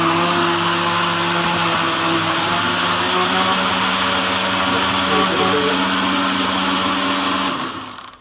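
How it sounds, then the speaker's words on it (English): Blender whirring as it mixes three eggs for a chocolate cauliflower cake, a loud continuous motor drone with a steady pitch that runs evenly before winding down at the end. "we put in our 3 eggs and stick the lid on and blend this"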